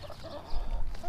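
A rooster at a backyard aquaponic setup gives soft, close clucks in short irregular bursts, with no voices heard.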